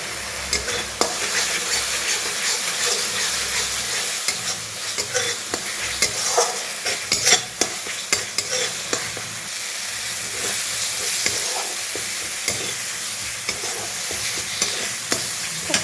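Masala with green chilies and garam masala sizzles steadily in a pan for egg curry, with frequent sharp stirring scrapes and clinks of the spoon throughout, close and fairly loud.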